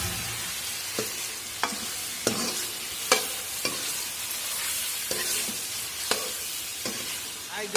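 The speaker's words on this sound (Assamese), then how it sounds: "মাংস দি দিলোঁ কেৰাহীত" Broiler meat fries in a kadai with a continuous close sizzle, broken by regular scraping strokes of a spatula about once a second as it is stirred, with no voices.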